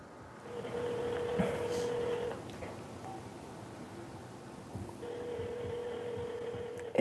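A telephone rings in two steady electronic tones, each lasting a couple of seconds with a pause between, faint and indoors over a low room hum.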